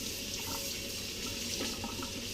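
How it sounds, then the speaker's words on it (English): Tap water runs steadily into a kitchen sink as pieces of lemon tart equipment are rinsed, a close, continuous splashing hiss with small clatters of items shifting under the stream and no voices. "I'll rinse it off a bit"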